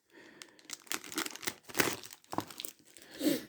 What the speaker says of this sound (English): get these little plastic bags out of the way